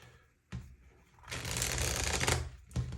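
Tarot cards shuffled by hand, a short riffle burst then a long, loud stretch of dense crackling card noise, ending with a couple of brief taps, no talking.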